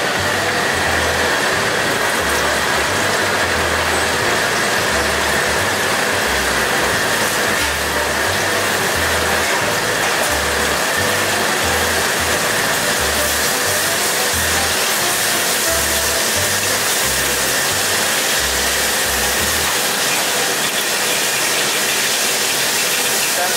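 Corn-flour-coated lobster deep frying in a pot of oil makes a loud, dense hiss that runs unbroken for more than twenty seconds, with a low rumble underneath that fades near the end.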